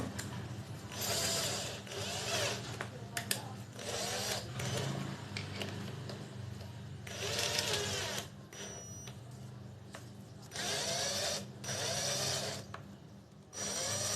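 An electric drill fitted with a drill bit sharpener whirs and grinds in repeated bursts of a few seconds each, with brief pauses between, close and fairly loud.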